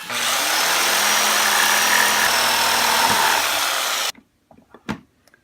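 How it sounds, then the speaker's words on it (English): A loud, steady whine of a drill press boring with a Forstner bit runs for about four seconds, then cuts off, followed by a few faint knocks and handling sounds. "The reason I use a Forstner bit, it was sitting right there on my drill press"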